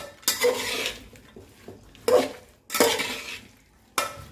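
Spoon scraping and clattering against a metal pot while mixing spice paste into okra, in several bursts with short pauses, close by, no voices.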